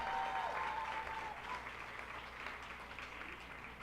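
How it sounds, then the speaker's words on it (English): Steady audience applause at an awards ceremony for a youth program coordinator, a dense crowd of clapping that fades slightly, with a faint tone early on. "Let's give her a round of applause for all of her work."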